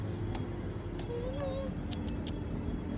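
A single short, faint cat meow amid steady background road noise, with a few brief clicks nearby.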